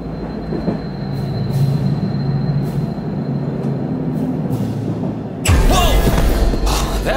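Subway train rumbling through a tunnel, a steady low roar with a faint whine, then a sudden loud rush of wheel and track noise near the end.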